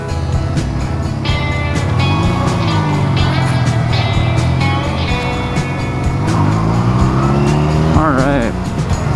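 Honda Rebel 250cc motorcycle setting off on the Palouse Highway, its engine revving up through gears loudly and continuously with strong wind noise, while a rider talks over it.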